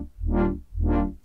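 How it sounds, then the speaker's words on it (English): A synth tone modulated by a triangle-wave LFO swells and fades twice in smooth, even pulses, its brightness rising and falling as the slow wave sweeps it up and down. "The triangle is slightly less sharp than the sawtooth."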